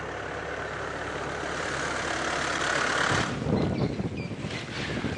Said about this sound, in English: I'm going to wait until this giant blue tractor comes past us